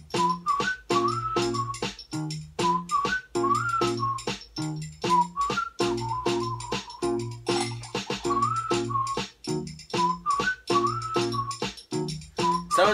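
A homemade beat with a whistled melody, hits on a bottle and MIDI keyboard parts plays alone and close, the bright whistled tune looping over a steady, slightly uneven rhythmic pulse.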